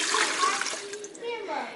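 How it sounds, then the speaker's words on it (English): Warm water poured into a stainless steel mixing bowl for French bread dough, a steady splashing pour that shifts in pitch as the bowl fills, close and fairly loud, alone. "So we're going to start by adding the warm water into the mixing bowl."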